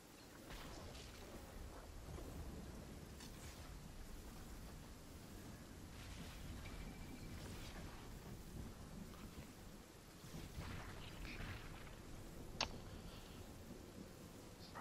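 Fortnite storm ambience with low rolling thunder and steady rain, a faint continuous wash with occasional soft rumbles and a brief sharp tick, no voices.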